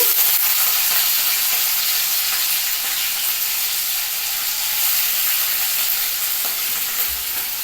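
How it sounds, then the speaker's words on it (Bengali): Onion tempering fries in hot oil for a fish curry, making a loud, continuous sizzling hiss that stays steady throughout with no voices. "প্রথমে মাছের ঝোলের জন্য পেঁয়াজ পোড়নটা দিয়ে দিচ্ছি"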